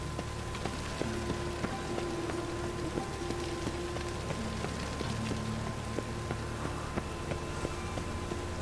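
Steady rain in the video game Witcher 3 patters continuously on surfaces, with a faint tonal hum and scattered drip ticks underneath, even and unbroken throughout.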